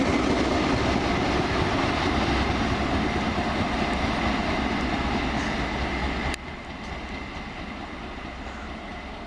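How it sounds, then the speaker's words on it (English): A passenger train running from Bristol Temple Meads to London Paddington rumbles past close by with a loud, steady roar of wheels on rails, which drops abruptly to a lower, fading rush as it moves away. "This is 1 Alpha 20 from Bristol Temple Meads to London Paddington."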